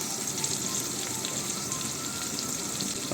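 Spices frying hard in mustard oil in a pan for a Bengali panch phoron chicken dish, a loud, continuous, dense crackling sizzle like heavy rain, steady throughout with no voices.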